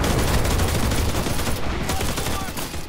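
M2 carbine fire in the World War II shooter game Enlisted, with dense, loud bursts of gunshots crackling in quick succession and overlapping in a rapid volley.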